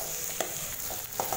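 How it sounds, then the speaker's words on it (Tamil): Chopped onions sautéing in a pan for brinjal masala fry, a soft steady sizzle with a few light spoon scrapes and taps as they are stirred, close up with no voices. "சேர்த்துட்டு வெங்காயத்தை நல்லா வதக்கி விட்டுருங்க."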